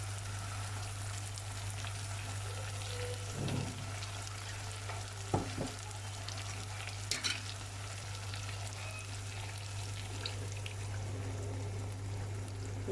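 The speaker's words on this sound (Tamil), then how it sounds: "கொஞ்சம் தண்ணி ஆட் பண்ணி இதை ஊற்றி விடலாம்." Ground roasted paste thinned with water poured into tomatoes frying in a pan, a steady sizzle with soft stirring and a few brief splashy clatters, close and alone under a constant low hum.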